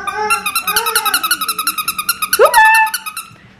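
A golden retriever puppy makes a rapid series of high, squeaky whines and yips up close, pulsing rhythmically before rising into a sharper, longer cry and fading out.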